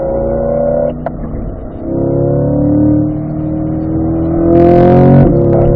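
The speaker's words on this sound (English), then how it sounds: "So start getting on the gas, up to 4th gear, accelerate up." A race car on a track session accelerating through the gears up to fourth, heard from inside as a loud engine drone whose pitch climbs, drops at each shift and climbs again, with no talking.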